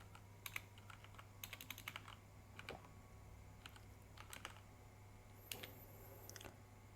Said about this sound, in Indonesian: kita tinggal mengetik namanya